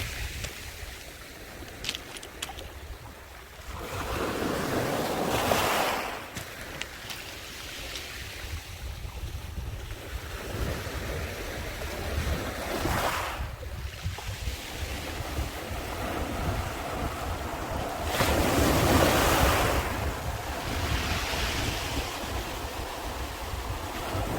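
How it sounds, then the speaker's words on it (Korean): Waves break and wash onto the shore of Yeongil Bay in Pohang in repeated surges, with steady wind noise and a constant roar of surf between the louder crashes. "파도 소리 한번 들어보십시오"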